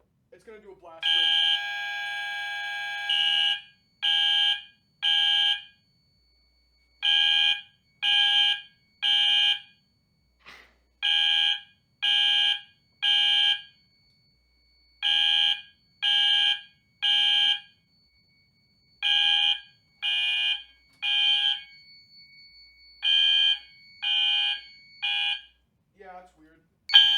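Synchronized fire alarm horns on a panel system test open with a long blast, then pulse in short, evenly spaced blasts, loud and near, with brief silences between groups.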